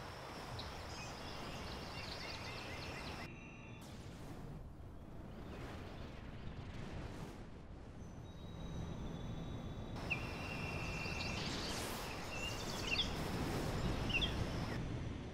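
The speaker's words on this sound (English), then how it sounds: "this crazy bird that I created, Vortex in third order Ambisonics" A designed creature call for a fantastical bird, rendered in third order Ambisonics: bursts of high, shrill, warbling tones and airy swooshes come and go over a dense textured bed, growing busier and louder toward the end.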